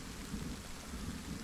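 Steady rain with a low thunder rumble in Kingdom Two Crowns, a dense continuous wash of rainfall over deep rolling noise, fairly loud and constant throughout.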